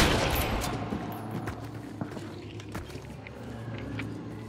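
Shotgun fire in the video game Hunt: Showdown, heard as a loud blast at the start followed by several sharp shots and impacts inside a building, with footsteps and movement sounds between them.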